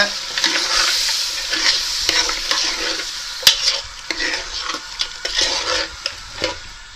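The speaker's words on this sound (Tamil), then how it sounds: "இஞ்சி பூண்டு பேஸ்ட்டு எல்லாத்தையும் ஒன்றா கொடுத்துருவோம் அடுத்தது மசாலா நம்ம எடுத்து வச்சிருந்த மசாலா அதுவும் கொடுத்துருவோம் கொடுத்துட்டு கிண்டு கிண்டிக்கிங்க" Ginger garlic paste and ground masala stirred in a hot oiled pan for mutton dalcha, with a steady close sizzle and repeated scraping strokes of a spoon against the metal, no talking.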